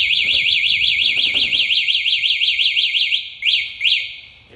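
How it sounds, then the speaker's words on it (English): A loud warbling security alarm on a 2021 Tao Gemini electric motorbike wails in a rapid, steady rising-falling pattern, then cuts out and gives two short separate chirps. "Here's the alarm. The alarm's on."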